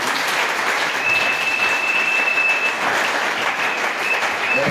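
Congregation applauding in acclamation at a French-language church service, steady sustained clapping filling the space throughout with no talk over it.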